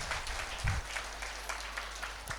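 Faint applause from an audience at a Pyramid anniversary event, soft scattered clapping heard at a distance over a low background hum.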